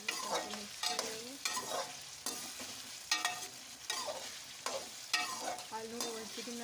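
Chicken and potato pulao with ginger and garlic is stirred in a pot, a steady run of scraping strokes about once a second over a soft frying sizzle, with nobody speaking.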